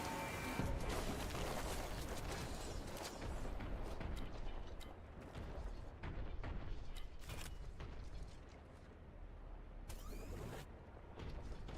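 Gunfire and heavy blasts in the video game Boltgun, repeated sharp shots and booms over a dense, rumbling action mix, with no one talking.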